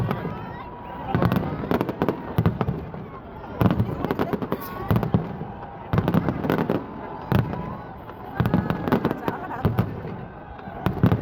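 New Year fireworks at the Dubai Frame crackle and pop in repeated bursts of rapid bangs, fairly close, with voices of a crowd murmuring between the volleys.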